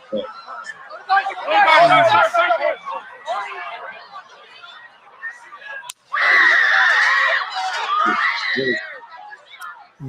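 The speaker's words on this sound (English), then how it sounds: "You can hear people screaming and people shouting, "Get down! Get down! Get down!"" A crowd at a Trump rally screams and shouts in panic after gunshots, loud frantic bursts of yelling with a brief lull before a second wave of screaming.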